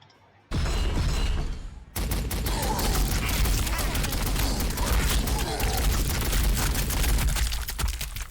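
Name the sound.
Gatling cannon firing in Warhammer 40,000: Sanctus Reach video game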